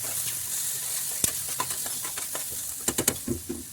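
Maggi noodles with turmeric and red chilli being stirred in a pan, a soft steady sizzle under scattered scraping clicks of the spoon, a few sharper knocks near the end.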